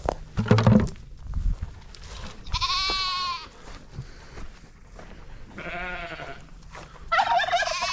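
Turkeys gobble in loud rattling bursts, three distinct calls spaced a few seconds apart, with farmyard noise and a brief thump early on.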